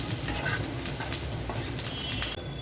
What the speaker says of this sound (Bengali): পেঁয়াজটা ব্রাউন করে ভেজে নেব।